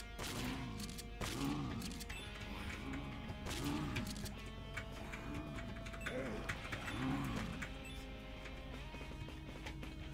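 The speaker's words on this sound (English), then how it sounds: "and then you shoot them all as a group." Gunfire in the Dead Pixels video game as zombies are shot down in a group, with bursts of shots repeating over a dense, continuous game soundscape, loud and busy throughout.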